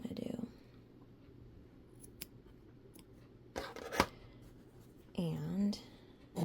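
Scissors snip through embroidery thread in a few quiet, close, separate cuts, with soft speech and low handling noise between them.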